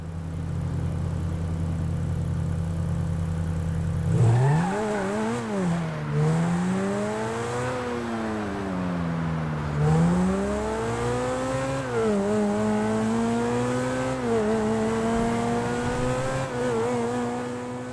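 A Grotti Turismo R sports car in the video game GTA V idles, then revs and accelerates through repeated rising and falling engine sweeps as it shifts gears, loud and close with no talking.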